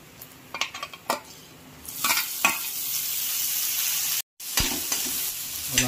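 Onions and tomatoes fry in a pan for Maggi noodles. Several clinks of utensils are followed by a loud, steady sizzle as the tomatoes go in, with scraping stirs, a brief cut, then the sizzle resumes.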